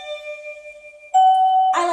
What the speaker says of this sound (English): And now I can ring my doorbell.